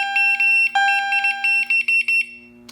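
Loud electronic alarm from a home fire alarm system during a test, sounding in rapid repeating beeps with a steady high tone, then abruptly cutting off when silenced at the keypad.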